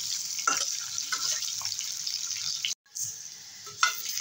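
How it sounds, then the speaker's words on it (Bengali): Potatoes frying in oil in a pan, a steady close hiss and sizzle with soft stirring clicks and a brief gap, no talk. "আলুটা ভাজা হয়ে গেছে, তুলে নেব।"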